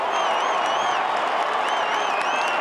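A roaring home crowd at an AFL elimination final between Richmond and Port Adelaide cheers and applauds after a goal, a dense, sustained wall of noise with rising whistles and shouts throughout.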